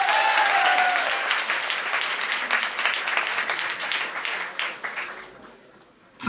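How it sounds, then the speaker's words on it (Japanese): Audience applause at a 2010 44CLASH battle tournament hall, loud dense clapping that fills the space from the start, slowly thinning and fading out near the end. "もう一度大きな拍手お願いします。"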